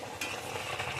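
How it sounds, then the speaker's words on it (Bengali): Poppy seed paste sizzles and bubbles in a pan of rohu fish curry, a soft, close, steady frying hiss with faint stirring and no voices. "মা এবার পোস্তটা ঢেলে দিল রুই মাছের ঝোলে।"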